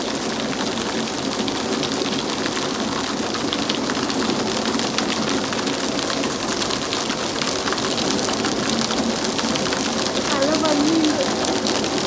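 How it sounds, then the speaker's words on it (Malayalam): Steady rain falls in the UAE desert, a dense continuous hiss of drops on surfaces that holds evenly throughout, with faint bird calls and a voice briefly speaking over it. "മഴയുടെ നല്ല സൗണ്ട് ഉണ്ട്"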